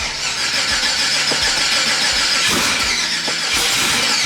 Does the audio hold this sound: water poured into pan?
no